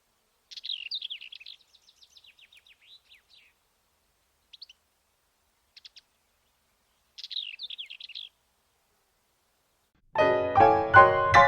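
Black wheatear (Le Traquet Rieur) song: varied, rapid chirpy phrases in several separated bursts with silences between, clear and bright, followed at the end by a loud, harmonically rich musical passage.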